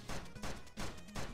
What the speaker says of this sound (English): Fire down, use your gun recoil to shoot yourself into the air.